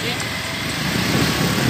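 Four motorcycles idle together in a low, steady rumble, close by and fairly loud, with people talking over the engines.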